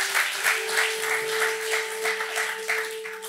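Church congregation clapping in response to a preacher, a steady wash of many hands with soft rhythmic swells, moderately loud with a sustained organ or keyboard tone underneath.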